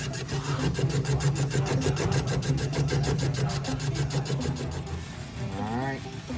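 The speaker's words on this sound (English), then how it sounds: "we'll fire up our old Berco BT6 here, and we'll make a few passes" Old Berco BT6 boring machine cutting a main cap on a race Hemi engine block after a main cap failure, a steady close grinding, whirring metal-cutting drone with rapid rhythmic chatter, running continuously before easing slightly near the end.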